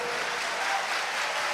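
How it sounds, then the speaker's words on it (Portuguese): Applause from a church congregation during a service, a brief, steady wash of clapping with no voice over it. "me dá um glória a Deus maravilhoso e uma salva de palmas para Jesus"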